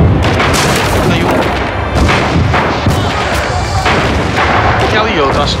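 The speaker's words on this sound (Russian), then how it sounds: "граната!" Heavy booms and blasts fill a war video game battle as a grenade goes off amid sustained gunfire and artillery-like explosions, loud and dense throughout, with players' voices partly under the din.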